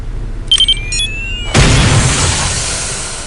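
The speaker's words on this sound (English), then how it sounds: "Once a radio bomb is planted, take cover and press your fire key to detonate the bomb." Radio bomb detonation in Counter-Strike Condition Zero: a few short electronic beeps and tones lead into a sudden loud blast, followed by a long rumbling decay that fades over the following seconds.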